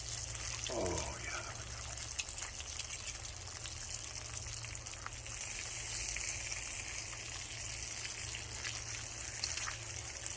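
Bacon fries in a pan over an outdoor cooking fire, giving a faint, steady sizzling hiss that runs continuously at low volume.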